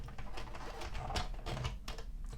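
Addi or Sentro plastic circular knitting machine with its crank wheel turned by hand, giving a steady run of small clicking, ratcheting ticks close up, with no talking.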